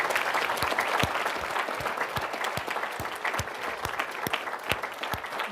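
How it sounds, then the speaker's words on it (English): At a Take Our Kids To Lunch event, an audience applauds the panelists with a sustained round of clapping, sharp individual claps standing out against the steady roar, with a faint voice or two beneath. "can I get a big round of applause, please, for our panelists today?"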